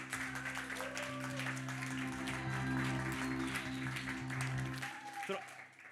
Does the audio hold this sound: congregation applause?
yes